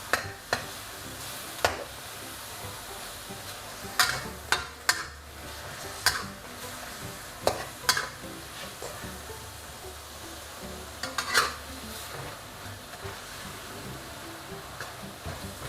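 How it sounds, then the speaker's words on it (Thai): Pork sizzles as it is stir-fried dry in a pan over high heat, a steady hiss punctuated by sharp spatula scrapes and clacks at irregular intervals, close and alone. "อันนี้ผัดไปเรื่อยๆนะครับ จนน้ำหมูมันเริ่มแห้ง"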